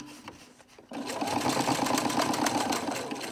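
A sewing machine runs steadily, stitching thick folded fabric handles onto a simple shopping bag; the close motor whir starts after a brief pause and continues without a break.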